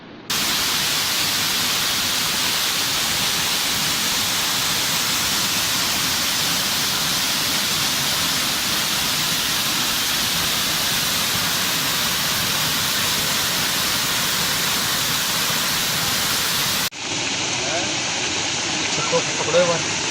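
The Kantli river in Shekhawati flows as a loud, continuous broadband rush of water, steady for most of the stretch before shifting to a slightly different, fuller texture near the end.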